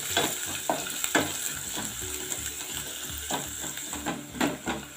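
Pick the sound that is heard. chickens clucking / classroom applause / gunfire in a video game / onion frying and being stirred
onion frying and being stirred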